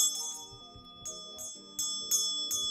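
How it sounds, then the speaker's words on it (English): A bell rings over a live tarot reading, a sustained bright chime with steady ringing tones and soft rhythmic thumps beneath, continuing for a few seconds. "Let's ring the bell for Danny right quick, guys."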